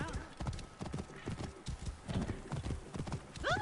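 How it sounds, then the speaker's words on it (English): A horse in the game Assassin's Creed Origins trots with rapid rhythmic clip-clop hoofbeats, ending in a loud whinny, while someone talks over it. "Go ahead and call for my horse"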